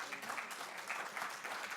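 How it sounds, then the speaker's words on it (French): An audience clapping at a team presentation, a brief even burst of applause from a room of people, steady throughout without a voice on top. "Et vous pouvez les applaudir pour le travail qu'ils font."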